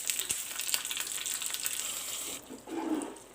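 Mustard seeds, fenugreek, dried red chillies and curry leaves crackle and sizzle in hot oil for a Kerala mango pulissery tempering, a steady frying hiss that eases briefly and then flares again with a louder burst near the end.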